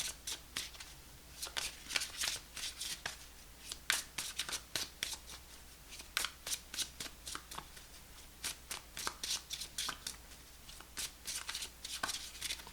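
Tarot cards being shuffled over and over, a steady run of crisp riffling bursts close by, with a low hum underneath and no talking.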